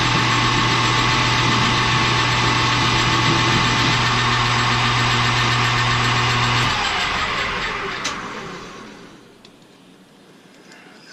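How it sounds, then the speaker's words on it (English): A machine tool takes a heavy, hand-fed cut while making a drawbar wrench: a loud, steady mechanical drone with a low hum that drops away after several seconds, leaving a fading whir as it winds down. "we're going to take a good bit of cut here. I'm just hand feeding this as it's a short."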